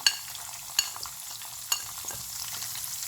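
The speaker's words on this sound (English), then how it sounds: "Give it a little mix. I'll add the asafoetida now." Asafoetida dropped into a hot oiled pan and stirred in, giving a steady close sizzle with a few sharp scrapes and taps of the spoon, no voices.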